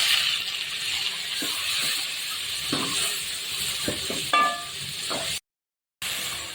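Onion and tomato sauté in a pan for paruppu kulambu, a soft steady sizzling hiss punctuated by scattered spoon scrapes and taps, with one brief gap of silence.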